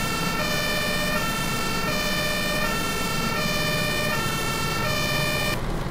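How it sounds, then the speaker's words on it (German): Emergency vehicle siren in the Ski Region Simulator 2012 video game, a loud, steady cycling electronic wail that repeats in regular phases close by over a vehicle engine drone, with no voices. "Natürlich wieder mit Horn und Blaulicht fahren wir zu unserer Veranstaltung"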